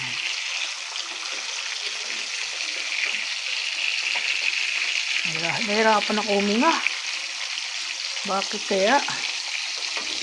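Steady, loud sizzling of food frying in a pan throughout, with a person speaking briefly over it.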